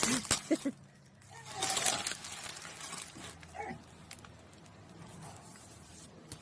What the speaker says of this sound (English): my dog is barking inside where it's nice and warm